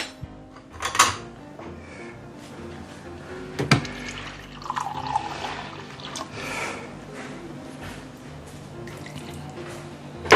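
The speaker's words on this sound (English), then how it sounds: "Okay, and I'm going to add some water inside." Water is poured into a pork chop marinade in a kitchen, with soft trickling and dripping splashes, a few louder spills, over a quiet background.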